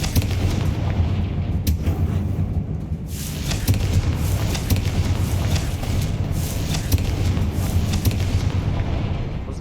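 Explosions from the Confringo fire spell in the game Hogwarts Legacy on Xbox Series S land over a rumbling low bed. Several sharp bursts and booms come at irregular intervals, fairly loud and close.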